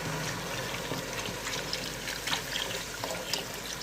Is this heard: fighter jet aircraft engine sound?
no